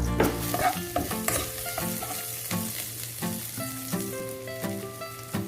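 Chopped onion sizzling in hot oil in a frying pan, the start of a beef stir fry, with steady crackling and occasional stirring scrapes under fairly loud background music with melodic notes.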